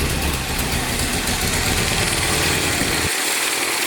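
The engine of an abandoned 1982 Nissan 720 King Cab mini pickup idles loudly and unevenly, popping in the exhaust, with a rough, sputtering low rumble throughout that drops away abruptly near the end.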